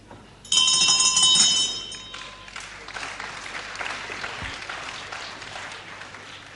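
At the start of round one of a boxing bout, a ring bell clangs brightly in a quick burst and rings out, then a crowd applauds and murmurs for several seconds.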